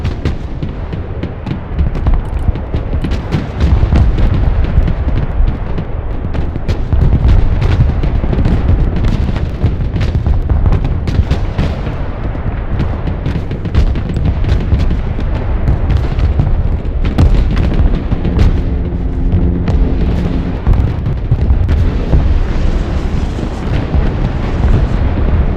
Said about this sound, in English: It's wild watching all of these tow missiles fly everywhere.